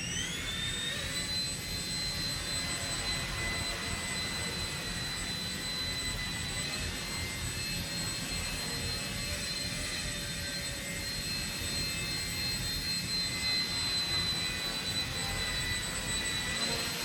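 Blade 70 S micro RC helicopter in flight, a steady high-pitched electric whine with constant motor tones, held evenly at close range throughout without talk.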